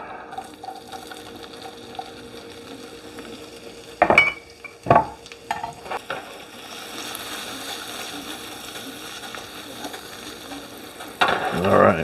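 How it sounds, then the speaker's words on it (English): Asparagus hits a hot pan in a loud clattering burst, followed by an ongoing sizzle with occasional scrapes and a fresh rush of frying toward the end. "Now I'll throw those, I'll crank up the heat. Throw the asparagus in."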